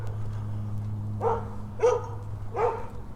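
Dog barks three times, evenly spaced and fairly close, over a steady low hum, with no talking.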